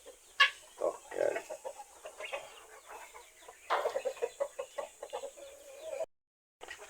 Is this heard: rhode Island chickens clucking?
yes